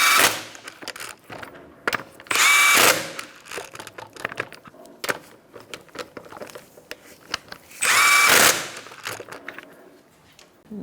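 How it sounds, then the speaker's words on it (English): Wheel lug nuts are tightened with a 21 mm socket on a 2014–2019 Kia Soul. Two loud bursts of rattling power-tool noise stand out among scattered clicks and handling clatter. "You're going to tighten up the lug nuts in a star-like pattern."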